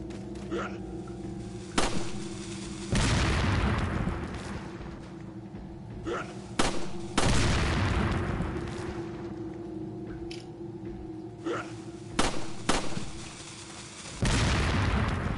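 Bombs thrown by an enemy in Resident Evil 4 burst in several loud, booming blasts at irregular intervals, each a sharp crack trailing into rumble over steady game background noise.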